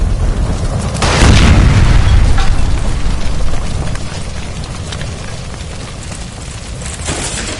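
A gas line blows up in the video game L.A. Noire: a loud, close boom bursts out about a second in and rumbles for a few seconds before fading into lingering crackle and debris.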